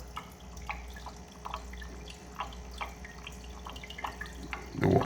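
Water from an aquarium pump trickles and drips through a breeder box back into the main tank, small irregular splashes over a low hum, ending in a louder burst of water.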